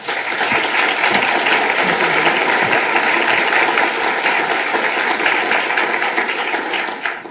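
An audience at a law school Pro Bono Society induction ceremony applauds to welcome the Honorable Ramona Romero, with loud, dense, sustained clapping that fills the room for several seconds before easing slightly at the end.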